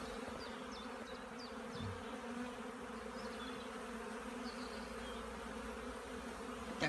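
Honeybees fly around beehives on a warm spring day, making a steady, soft buzzing drone with individual bees passing close now and then.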